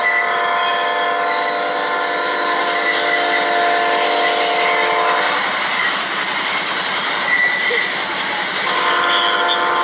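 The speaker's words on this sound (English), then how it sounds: "We got a train behind us, guys, so it's getting a little noisy out here" A train passes close by outdoors, a loud steady rumble with rail clatter and horn-like tones holding across the whole stretch, the pitch and texture shifting partway through as the cars roll past.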